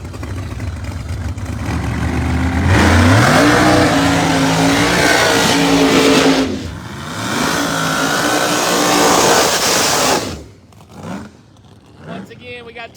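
Drag race cars, including a nitrous-fed machine and a ProCharger Camaro, rev and accelerate hard at Cecil County Dragway, loud engine roar rising through gear changes, then fading as they pull away, with a commentator talking over it.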